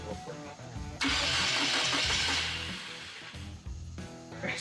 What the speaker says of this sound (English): So we're gonna try to crank it over and see if this thing fires up.